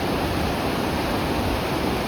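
A raging river rushes beside a muddy kayak trail, a dense, loud, unbroken roar of churning water filling the whole moment.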